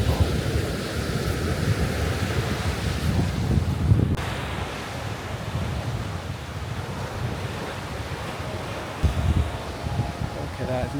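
Surf and wind at Little Beach, Two Peoples Bay: a continuous wash of waves with gusty wind buffeting the microphone, a heavier thump near the end, and a voice speaking at times underneath.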